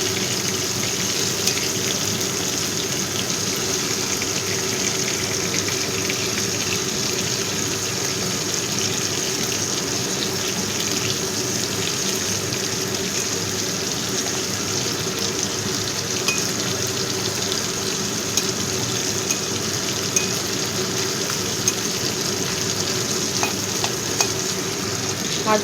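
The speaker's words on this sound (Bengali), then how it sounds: "এবার মাছগুলো উল্টে দিচ্ছি।" Fish pieces fry in hot oil in a pan, a steady close sizzle and crackle with faint stirring and turning sounds running throughout, no voices.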